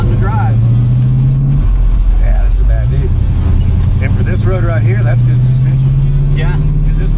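A 1974 De Tomaso Pantera with a 351 Cleveland engine driving on a rough road, its engine droning steadily from inside the cabin and rising slightly in pitch, while people talk over it throughout.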